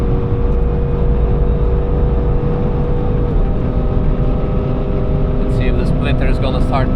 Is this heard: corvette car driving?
yes